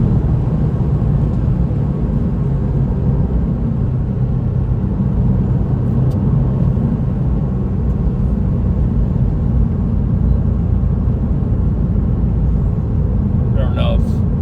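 Steady, loud engine drone and road rumble from inside a 1999 Porsche 911 996 while driving, holding an even, continuous tone throughout with a brief rattle near the end.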